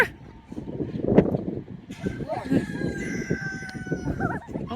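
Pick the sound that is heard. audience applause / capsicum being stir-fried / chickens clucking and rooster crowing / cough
chickens clucking and rooster crowing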